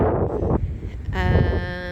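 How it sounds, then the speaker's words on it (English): Low, rumbling wind buffeting the microphone throughout in a small seaside park by the English Channel, with some tonal background sound joining in the second half. "It's hard to find a spot that's not too windy."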